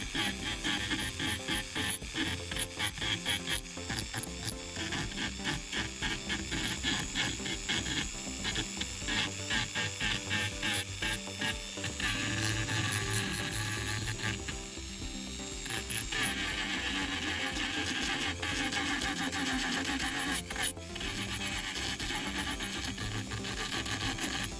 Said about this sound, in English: I continued cleaning all the surfaces with sandpaper.